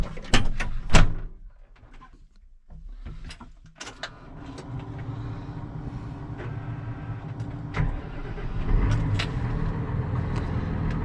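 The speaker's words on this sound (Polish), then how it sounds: "jeszcze domknę drzwi." Cab door of a Valtra T174e Versu tractor thuds shut with a couple of sharp clunks and latch clicks, followed by a quieter enclosed interior with a low steady hum and occasional small knocks.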